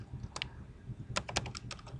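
Close computer keyboard keys clatter in quick, uneven bursts of several clicks, with short pauses between runs, over a faint low background hum.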